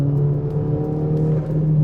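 Stage 2 tuned MK6 GTI engine pulling hard after a downshift to fourth, a steady loud low drone with a slight rise in pitch throughout, heard from inside the car with no talking.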